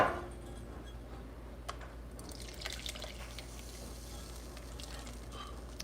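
Coffee poured slowly through a strainer, a faint trickle and drip of liquid that grows a little busier partway through, quiet and without voices.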